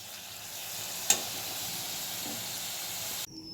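Cabbage being stir-fried in a pan for a moong dal, a soft, even sizzle with one brief clink of the spatula, then an abrupt cut as the heat drops.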